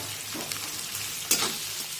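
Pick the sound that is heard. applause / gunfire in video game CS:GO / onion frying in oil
onion frying in oil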